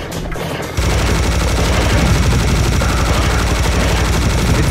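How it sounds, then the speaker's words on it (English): A Tommy gun fires in a shooter video game, a continuous rapid burst of loud automatic shots that starts abruptly and keeps hammering for several seconds without pause. "The Tommy gun does in fact"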